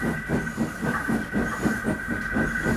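A steam engine puffs in a steady rhythm with hissing steam and clanking as it starts to pull a line of coaches, heard close and alone.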